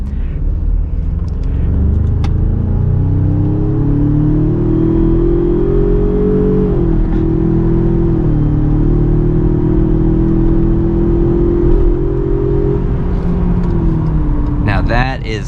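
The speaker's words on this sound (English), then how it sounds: "so that is how the engine sounds in the XLT trim of the Ranger" A 2020 Ford Ranger XLT's 2.3-liter EcoBoost engine revs during a drive, a loud close growl climbing in pitch, holding and easing through gear changes, with a voice talking over it.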